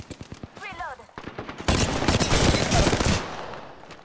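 Rapid automatic gunfire in the online shooter Apex Legends, bursts of loud close shots building into a dense sustained volley, with a player talking briefly at the start.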